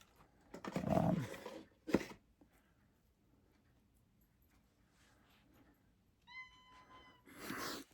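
A house cat meows in several short, close calls separated by quiet gaps, with a faint clink and a final louder meow near the end.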